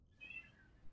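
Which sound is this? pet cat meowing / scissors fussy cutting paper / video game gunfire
pet cat meowing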